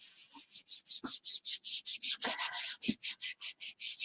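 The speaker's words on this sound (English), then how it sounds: "What we're going to do is we're going to rub it gently" A Lysol wipe is rubbed gently back and forth over a silk-screened surface. The close, steady swishing strokes come in a quick regular rhythm, about four per second, broken by a few soft taps.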